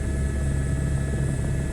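Steady helicopter rotor and engine drone from the flight sim Microsoft Flight Simulator 2024, a continuous even hum alone with no talking.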